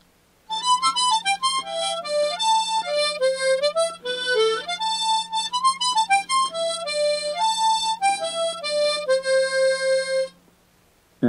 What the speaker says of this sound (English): And here's what the entire B part sounds like.